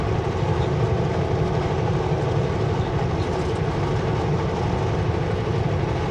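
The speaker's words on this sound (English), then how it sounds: "Hey look, another train." A CPKC freight train rumbles past nearby between Barrière and Kamloops, a loud continuous roar of rolling wheels and heavy engine drone that stays steady throughout.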